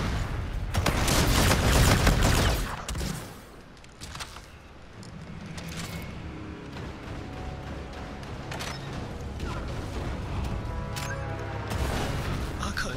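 Gunfire in Call of Duty: Infinite Warfare, with a loud burst of overlapping shots and booms early on, then quieter, scattered shooting and game ambience for the rest, with some voices.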